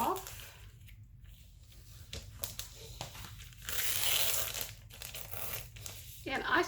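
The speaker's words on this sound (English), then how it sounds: "you're going to peel this plastic film" Plastic film is peeled off an album sheet at a table, crinkling and crackling in close bursts with brief quiet gaps between pulls.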